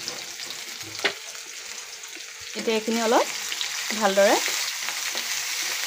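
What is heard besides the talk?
onions frying in oil with dried chillies and garlic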